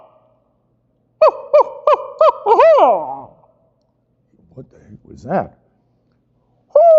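A barred owl's call, a rhythmic series of hooting notes followed by a drawn-out descending phrase, is probably a human imitation; a voice then speaks briefly, with another short call fragment near the end.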